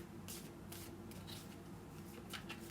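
Tarot cards are shuffled in soft, quick riffling bursts that repeat at an uneven rhythm, quiet and close, with no voices.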